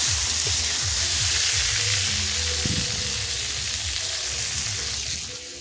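Fish fries in a pan, a loud, continuous sizzle with crackling spatter throughout and occasional low clatter underneath, no talking.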